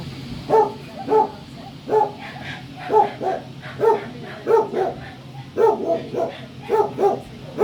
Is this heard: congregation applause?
no